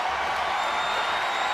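A virtual arena crowd at a WWE 2K24 wrestling match cheers in a steady, loud roar without letup.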